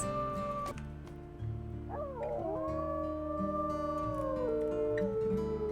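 In the video game WolfQuest, a wolf lets out a long, clear howl that rises and bends in pitch, with layered tonal voices held over a steady low background drone.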